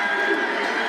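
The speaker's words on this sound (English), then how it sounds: "Crowd starting to get into this one as well." Crowd noise inside a college basketball arena during a game: a steady, dense roar of voices and cheering, fairly distant and sustained, with no clear peaks.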